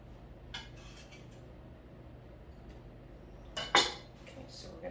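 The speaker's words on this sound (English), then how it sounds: "I'm also gonna add these onions." Onions tumble into a pan of softening garlic and get stirred, a few soft scrapes and clinks of a utensil against the pan, with one sharper metallic clatter near the end.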